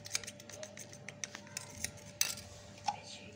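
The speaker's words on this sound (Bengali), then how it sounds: "আর আমরা অল্প পরিমাণে দুধ নিয়ে নিলাম, এর মধ্যে অল্প পরিমাণ ফুড কালার দিয়ে দিলাম, দিয়ে ভালোভাবে মিশিয়ে নিব।" Spoon clinking and scraping against a bowl while stirring milk mixed with food colouring, a string of faint, sharp metallic taps and scrapes at an irregular pace, close up and otherwise quiet.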